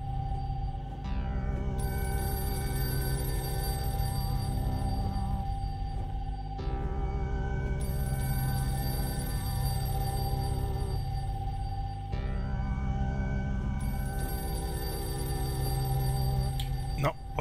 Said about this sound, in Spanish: Otra vez el teléfono, a ver dónde está.